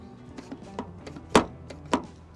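Toyota 4Runner door locks engaging: a few soft clicks, then two heavier hollow thunks close by, with no one speaking.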